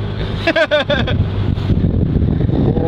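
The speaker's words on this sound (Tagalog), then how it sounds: "Bumagal ako, ang lakas ng hangin eh." Strong wind roars and buffets the microphone steadily throughout while riding a tuktuk from Vigan to Pagudpud in Ilocos Norte, and a voice shouts a few short calls near the beginning.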